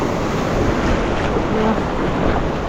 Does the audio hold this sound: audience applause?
no